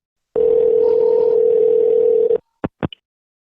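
On an old telephone line a steady tone holds for about two seconds, then cuts off into a few short clicks and beeps, like a call being connected.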